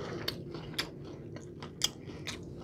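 Crunchy lemon pepper chicken wings bitten into and chewed up close, with several sharp crisp crunches spaced across the clip over a soft steady background.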